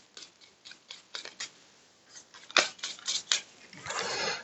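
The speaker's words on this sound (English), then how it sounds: "We'll give it a quick shuffle." Marvel United board game cards being shuffled by hand, a series of close, crisp riffling and snapping bursts, uneven in rhythm, ending in a longer rustling riffle.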